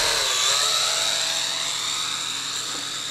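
An FPV drone's brushless motors whine at a high, steady pitch throughout, loud and close, like a dense buzzing drone hum with no talking.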